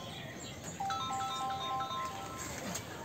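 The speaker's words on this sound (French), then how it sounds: "Mon téléphone sonne, non?" A mobile phone ringtone plays a repeating electronic melody of bright tones, moderately faint under a steady background hiss, with a faint murmur of voices in the room.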